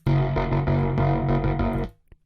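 Loud processed music through a blur effect in Bitwig Studio, with a smeared, washed-out texture, plays steadily before stopping suddenly, leaving only a faint tail.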